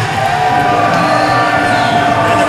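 A wrestling crowd at an ECCW no-holds-barred women's match roars steadily, a loud sustained wash of cheering and voices that holds evenly without breaks.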